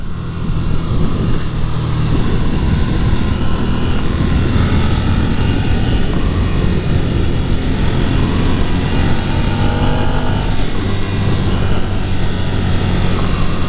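A 2022 Ducati Nightshift motorcycle ridden along the road, giving a loud, steady roar of engine and wind rush that holds constant from start to finish, with no talking.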